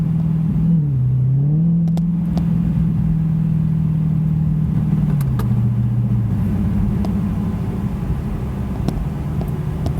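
Dodge Challenger SRT Hellcat driving with the windows closed, a steady low engine drone and road rumble from inside the cabin, shifting pitch a couple of times as it revs, continuous and without talk.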